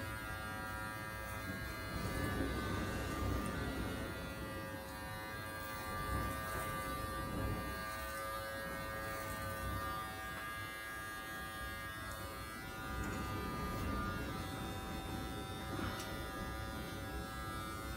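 Electric clippers shaving hair, a continuous faint motor buzz with a steady tonal hum that holds for the whole stretch, slight swells as the blades move.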